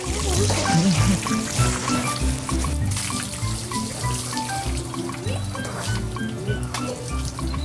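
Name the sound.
running water while a child bathes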